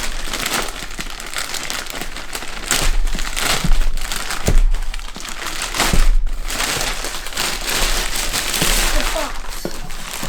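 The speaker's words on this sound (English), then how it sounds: "do you want to go ahead and open the bag?" Loud, close crinkling and rustling of plastic with occasional sharp crackles and thumps, continuous throughout.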